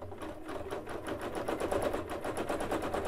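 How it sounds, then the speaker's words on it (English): Sewing machine doing free-motion stitching on blue jeans, a steady fast rhythmic needle clatter running continuously and close up, slightly louder toward the end. "I'm going to just travel right on the blue jean up to this flower, just the same, using the same stitch."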